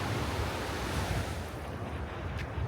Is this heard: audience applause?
no